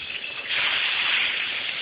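Turkey breast searing in a hot pan gives a steady bright hiss that swells louder after a brief quieter start and holds alone without talk.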